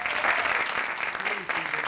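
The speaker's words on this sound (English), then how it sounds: "Please give them a round of applause." Audience at a small-business election-results event applauds the introduced panelists, dense steady clapping filling the whole stretch with faint voices underneath.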